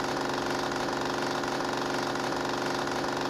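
Honda CB1000 motorcycle engine running with an aftermarket straight-pipe exhaust, a steady dense rumble held at constant loud level throughout, close by with no talk.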